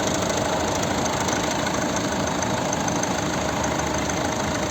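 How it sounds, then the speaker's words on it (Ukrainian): A 2010 Volvo V50 1.6 HDi diesel engine idles steadily up close, a constant low rumble with a faint knocking texture and no talking. "Ось робота двигуна"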